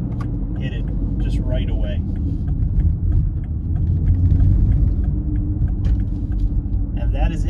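A 2020 BMW X3 M Competition engine rumbles steadily and loudly under the cabin noise while the driver makes aggressive paddle gear shifts, with someone talking over it throughout.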